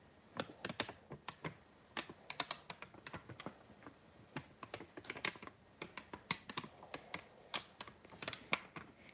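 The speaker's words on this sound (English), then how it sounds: "It's my favorite piece of paper to play with." A sheet of paper being handled and crinkled up close, producing irregular sharp crackles and rustles in quick bursts throughout, with no talking.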